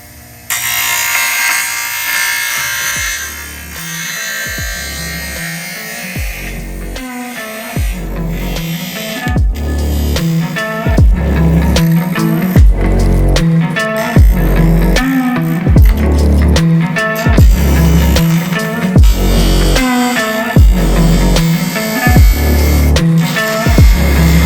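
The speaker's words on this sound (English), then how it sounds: "I'm gonna do some trimming on this guy just with a regular bench grinder" A regular bench grinder trims a truck step rail part for a Ram 2500, its loud, close motor whine broken by repeated rough grinding bursts as the metal is pressed against the wheel, with no talking.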